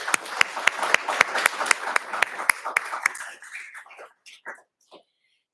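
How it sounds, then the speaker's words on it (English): Audience applause at an awards ceremony, a few loud sharp claps in quick rhythm that thin out and fade to scattered claps and silence. "it would be appropriate to have a round of applause to thank Lance and Elena for their generosit"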